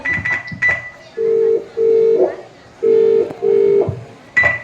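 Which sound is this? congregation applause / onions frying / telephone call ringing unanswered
telephone call ringing unanswered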